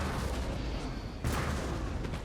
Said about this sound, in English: give that square some cannon shot